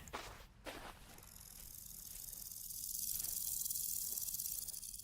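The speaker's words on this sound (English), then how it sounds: "I hear bugs." Insects chirp in the video game Vintage Story as a continuous high, dense buzz that swells louder toward the end, with a couple of soft footstep-like thumps near the start and no talk.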